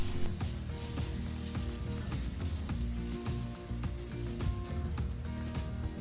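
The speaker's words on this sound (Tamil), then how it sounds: "தக்காளி நல்லா வதக்க விடணுங்க." Chopped tomatoes sizzle steadily while sautéing in a pan for chicken kheema paniyaram, a continuous close frying hiss with occasional light scraping taps from stirring.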